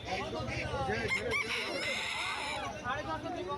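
Chickens cluck and a rooster crows amid the steady hubbub of a crowded bird market, where ducks, hens and pigeons are sold; a crowd murmurs throughout, close and busy.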